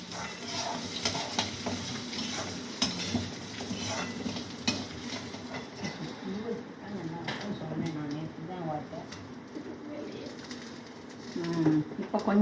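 Sambar masala paste frying in a pan for an onion and drumstick sambar, a steady crackling sizzle with stirring scrapes, mid-level, running under people talking.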